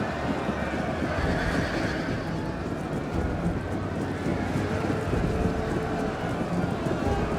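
Cavalry horses neighing and galloping amid a dense, roaring battle din in the video game Total War Rome 2 during a siege, the whinnies and hoofbeats blending into a constant loud wash of noise.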